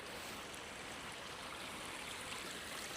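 Water from a garden pond waterfall tumbling over several small spill stones into a roughly 20-metre pond, a steady close rushing splash with no pauses.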